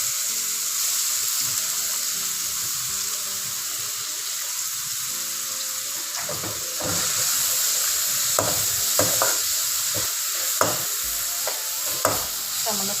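Onions dropped into hot oil with ajwain and cumin for a chicken and okra dish, a constant hiss of frying with a rise in sizzle midway and sharp scraping stirs toward the end, close up.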